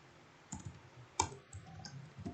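Computer mouse clicks while working in the Autograph graphing app, a few sharp, close, quiet clicks spaced unevenly apart with one louder click near the middle.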